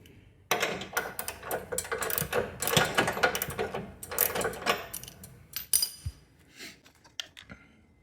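A wrench loosens a leveling bolt on a riding mower deck. Quick ratcheting clicks and metallic rattles come in uneven bursts, close and moderately loud, then thin out into scattered taps.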